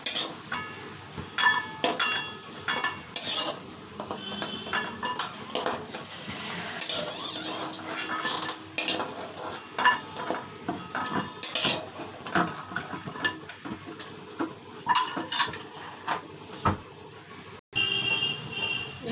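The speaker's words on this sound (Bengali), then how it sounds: "এই বড়াগুলো আমি এবার তুলে নিচ্ছি" Fried lentil fritters (dal bora) made from pea and masoor dal being lifted from a pan: repeated metallic scrapes and clinks of a utensil against the pan over a faint sizzle, close and irregular, without talk.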